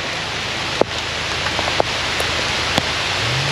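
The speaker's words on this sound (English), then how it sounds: "Oh, it's raining." Rain falls steadily outdoors in Maryland, a broad soft hiss with a few sharper drops tapping nearby surfaces, fairly quiet and continuous with no talk over it.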